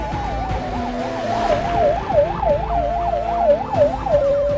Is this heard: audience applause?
no